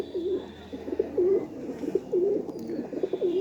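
A pigeon held up for display coos softly in a rhythmic, repeated rolling pattern of several close, gentle coos, with faint background noise and no voices.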